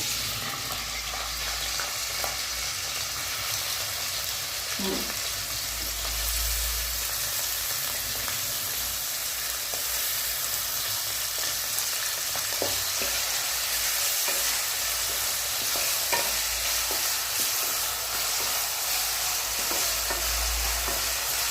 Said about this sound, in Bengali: তেল খুব ভালোভাবে গরম হয়ে গেছে তেলে দিলাম কেটে দিয়ে রাখা আলু